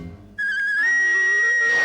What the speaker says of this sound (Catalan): Guaita això, que potser és teu, aquest xiulet.